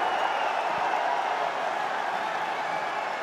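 Esports arena crowd at a CS:GO quarterfinal, with a steady roar of cheering and applause, loud and sustained throughout and without clear individual voices.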